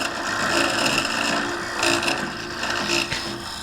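A lathe tool scrapes and cuts into a spinning claret ash live-edge bowl, a close, steady rasping whir with brief louder catches as the tool digs deeper, no speech.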